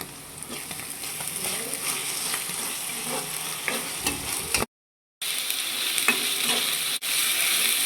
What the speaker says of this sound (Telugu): అల్లం వెల్లుల్లి పేస్ట్ వేసుకొని ఫ్రై చేసుకుందాం పచ్చివాసన పోయే వరకు